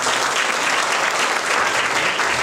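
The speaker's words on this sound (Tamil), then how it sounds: "கைத்தட்டுங்க பார்க்கலாம்." A church congregation claps hands together during a Tamil-language deliverance festival service, producing dense, steady applause that fills the space without pause or any voices.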